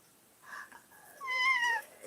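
A pet cat meows quietly indoors, giving a soft, drawn-out call that rises and falls, with no talking over it.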